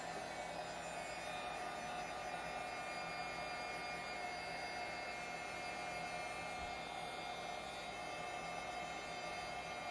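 A hair dryer runs steadily as it dries a damp stencil screen, a constant loud whirring hum with no pauses across the whole stretch.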